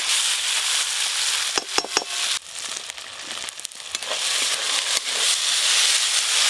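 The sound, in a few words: frying ginger-garlic-onion spice paste in a pan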